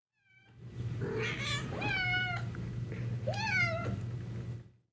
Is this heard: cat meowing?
yes